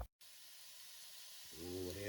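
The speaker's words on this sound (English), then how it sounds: "hear the sizzle as they marry up very nicely with the pancetta" Sofrito vegetables hit a pan of hot pancetta with a soft, faint hiss that builds steadily, followed by a brief rising tonal squeal near the end.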